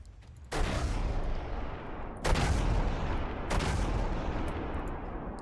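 Naval battle game CRAM guns unleashing three sudden, loud bursts of sustained rapid fire, each a dense roaring barrage that continues without a break, close and harsh with no speech.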